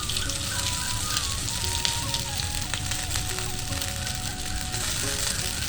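Veg chowmein noodles with vegetables fry in a hot pan, giving a loud, steady sizzle that runs unbroken throughout, close by with no talking.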